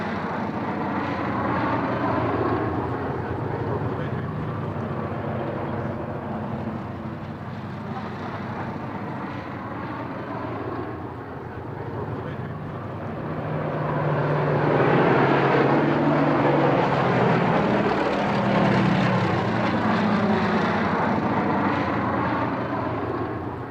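A Bristol Blenheim, a twin-engine propeller bomber restored after a crash, flies past at an airshow; its steady engine drone holds throughout and swells louder in the second half as it nears.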